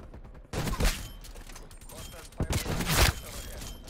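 Mac 10 submachine gun fire in Call of Duty Cold War, two loud bursts about two seconds apart over a steady game background, with a voice talking beneath.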